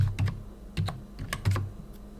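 Keys on a computer keyboard clack in a few quick, close clusters as a password is typed at the Fedora Linux command line, with short gaps between bursts and no talking.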